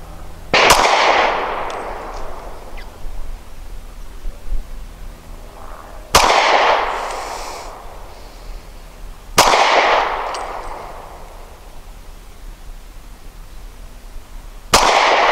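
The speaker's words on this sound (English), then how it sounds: "my first 5 shots from 7 yards is going to be with the M&P 40 Shield using the Black Hills remanufactured 180 grain" Four loud, sharp reports from an M&P 40 Shield pistol firing Black Hills remanufactured 180 grain ammunition at 7 yards, spaced a few seconds apart, each with a short ringing decay.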